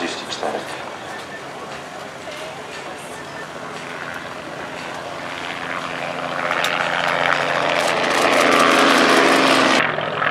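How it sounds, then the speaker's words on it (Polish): A Robinson R44 helicopter's engine and rotor drone grows steadily louder as it draws nearer at an air show, with a voice talking beneath the noise. "Prezentuje nam się śmigłowiec Robinson R44."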